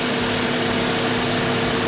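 A Hyundai Grand i10 with a 1.2-litre petrol engine and automatic gearbox runs at a steady idle, a loud, even hum with a constant low drone and no talking over it.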